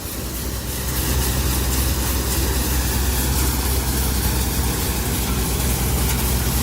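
A threshing machine powered by a 35 hp tractor runs in a loud, steady mechanical roar with rattling and a low engine drone, close by and continuous with no talk.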